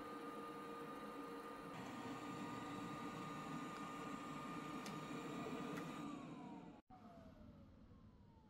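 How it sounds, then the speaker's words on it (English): A Eufy Clean L50 robot vacuum's self-emptying dock runs a loud, steady suction drone with a whining tone for several seconds, cutting out abruptly near the end. "it should empty out the robot vacuum"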